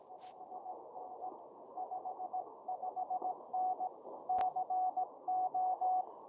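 Morse code sent on an amateur radio at an outdoor park activation, heard as a faint steady sidetone tapping out uneven, loosely timed dots and dashes over a hiss of background static.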